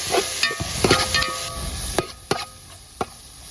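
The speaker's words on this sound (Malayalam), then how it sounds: "തക്കാളി കൂടെ അരിഞ്ഞ് വെച്ച് ഇട്ട് കൊടുക്കാം നല്ലപോലെ ഒന്ന് ഇളക്കി കൊടുക്കും" Chopped tomatoes being stirred into chicken kurma in a pan, with scraping and light sizzling plus a few sharp utensil knocks against the pan, close up and alone.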